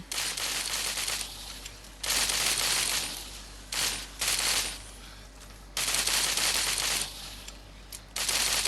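Bursts of rapid automatic gunfire from a gun in the zombie shooter game Into the Dead 2, dense rattling volleys lasting a second or two each, separated by short pauses, loud and close.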